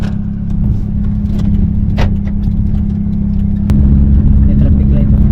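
A car drives along a road in the Philippines, a loud, steady low engine and road rumble that swells slightly near the end, with voices talking over it.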